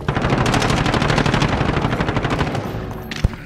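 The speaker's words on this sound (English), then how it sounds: "Shoot him through the wall." Sustained automatic gunfire in the Call of Duty: Modern Warfare video game, a loud continuous stream of rapid shots during team deathmatch play, ending with a single sharper bang.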